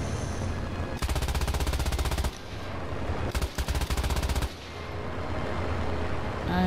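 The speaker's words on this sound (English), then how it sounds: "Artillery, oh." Rapid machine-gun bursts in the video game War Thunder, two loud sustained volleys of fast, evenly spaced shots with a pause between, close and dominant over a steady engine drone.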